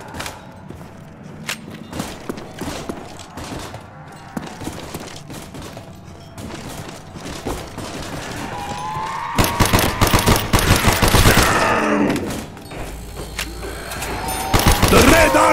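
Machine gun fire in the Kino zombie map on PS3 runs as sustained rattling bursts, growing louder and denser toward the end, mixed with mechanical clanks and thumps and a voice speaking over it.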